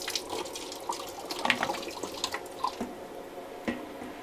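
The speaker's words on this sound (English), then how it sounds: "all the water came rushing out of this section of pipe" Water gushing and splashing out of an opened section of plumbing pipe at a failing check valve, a steady wet rush broken by irregular drips and splatters, close and fairly loud with no talk.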